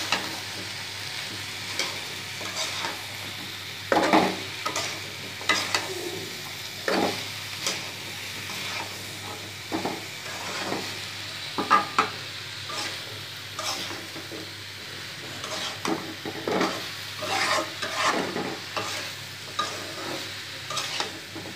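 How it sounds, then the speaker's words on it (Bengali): Bitter gourd and potato pieces frying in a pan, a soft continuous sizzle broken by repeated scraping stirs of a spatula at an irregular rhythm, close and fairly quiet, no voices. "এবার আমি ধুয়ে রাখা সেই করল্লা আলুগুলো এগুলোর মধ্যে ঢেলে দেব।"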